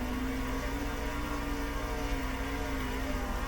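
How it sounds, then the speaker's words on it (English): Sprint car engine in the World of Outlaws racing game held at the rev limiter, a loud, steady buzzing drone with a constant pitch and no talk over it. "We got the revs hitting the limiter."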